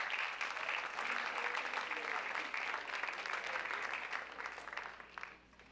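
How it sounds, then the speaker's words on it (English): Audience applause at a high school extracurricular awards assembly, a sustained even clatter of clapping that gradually thins and fades toward the end, heard at moderate distance in a large room. "Let's give them a big round of applause."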